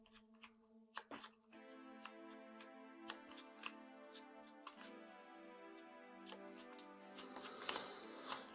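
A deck of board game cards is shuffled, with the riffles and hand handling running almost continuously across the clip. Sharp riffle bursts and soft card slaps sit close to the mic, and no one speaks.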